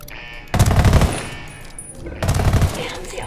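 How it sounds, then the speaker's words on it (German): Two loud bursts of rapid automatic gunfire in the video game Ghost Recon Wildlands, each lasting over a second with a short gap between them, close and heavy with no talk over them. "Okay, auf wen soll ich als erstes schießen?"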